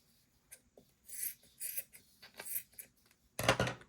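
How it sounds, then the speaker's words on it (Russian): Large scissors snip through velvet fabric in short, crisp cuts, several close rustling snips in a quiet room ending with a louder burst of handling. "Теперь, что покрупнее, я отрезаю большими ножницами."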